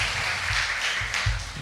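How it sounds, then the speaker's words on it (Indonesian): Audience clapping at a Pentecostal women's church service, a loud roomful of hands in rapid uneven applause with a few stronger rhythmic beats standing out, close and lively throughout. "Berikan tepuk tangan dulu."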